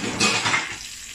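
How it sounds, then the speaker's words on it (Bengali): Pointed gourd (potol) pieces fry in hot oil in a pan, giving a brief, close hiss of sizzling with light utensil clatter and no talk. "এখন একে একে আমি এভাবে সবগুলি ফ্রাই করে নিব।"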